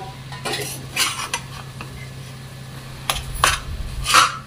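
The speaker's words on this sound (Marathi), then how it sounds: "हे सर्व व्यवस्थित मिक्स करून घेऊयात." Spices and mashed boiled potato for samosa filling are stirred in a pan, with a spoon scraping and clinking against the metal in intermittent bursts over a steady background hum.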